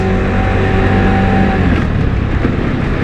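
An ARORA Cappucino scooter with its 50cc engine enlarged to 80cc runs loud and close with a steady, buzzing drone, carrying two riders of about 82 and 87 kilograms, with no speech over it.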